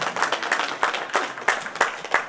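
Audience at a Maha Shivaratri event at an ashram clapping, a fairly close, loose run of claps arriving in irregular bursts without a steady beat.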